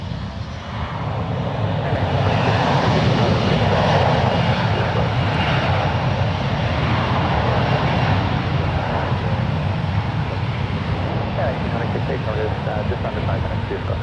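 A 22-year-old Boeing 777-200ER airliner taking off from San Francisco International Airport, bound from Denver for Kahului, gives a loud, steady jet roar that rises and holds throughout, broad and rumbling, with faint voices in the background.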